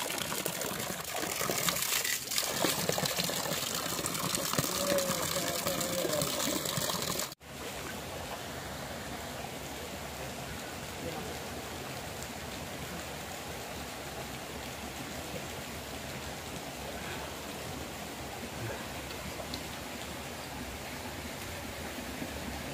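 Warm mineral spring water flows steadily from a bath fountain in Jamaica, a continuous close rushing trickle and splash that cuts briefly at one point, then resumes as an even, unbroken stream with no talk.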